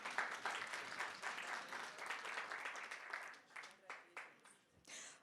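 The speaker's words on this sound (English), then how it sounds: "Another round of applause to him" An audience at a university innovation competition awards ceremony claps in sustained applause that thins into scattered individual claps before dying away.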